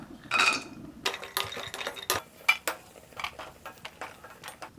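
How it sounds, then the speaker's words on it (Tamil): Cashews roast in a little ghee in a pan for beetroot kesari, with a spoon scraping and clinking against the metal in irregular close strokes and taps, no voices over it. "கொஞ்சமாக நெய் சேர்த்து முந்திரி பருப்பை வறுத்து எடுத்துக்கலாம்"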